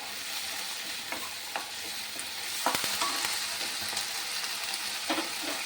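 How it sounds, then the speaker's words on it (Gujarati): Ginger and fenugreek sauté in a pan with a steady close sizzle and frying crackle, punctuated by occasional stirring scrapes. "થોડુંક આદું, મેથી છે ધોઈને રાખી છે, થોડીક સાંતળી લેશું"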